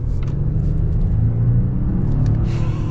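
A 2021 Volvo XC90 T8 Recharge plug-in hybrid SUV with a 400-horsepower 2-liter four-cylinder pulls hard from a standstill, a steady low engine rumble and road noise filling the cabin throughout without a break.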